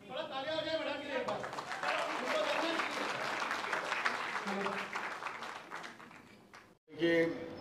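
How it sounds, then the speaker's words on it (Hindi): Crowd applause at a national awards ceremony, sustained dense clapping from a large audience for about six seconds before cutting off, with a brief burst of voices and noise at the end. "थोड़ा ताली आ जाए बड़ा के लिए"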